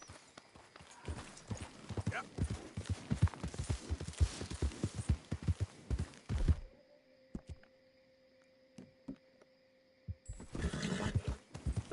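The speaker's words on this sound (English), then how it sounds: "me encontré otra vez el caballo árabe, respawneó." Arabian horse in Red Dead Redemption 2 walks with a steady clip-clop of hooves, loud and close for about six seconds, then near silence with faint tones before a brief burst of rustling movement.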